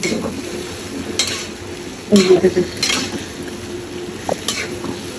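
Dal fried slowly in a pan, with a low background sizzle under a few scraping stirs and clattering knocks of a utensil against the pan, close by.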